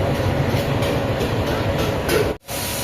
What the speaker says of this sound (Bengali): এই হচ্ছে আমাদের ট্রেন মা তারা এক্সপ্রেস